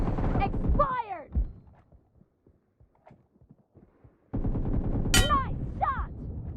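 Gunfire in the mobile shooter PUBG on a Xiaomi 12T Pro: a couple of sharp shots near the start, a quiet stretch with scattered small clicks, then a dense burst of loud game effects with a few sharp reports near the end.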